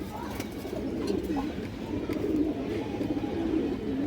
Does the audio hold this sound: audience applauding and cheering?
no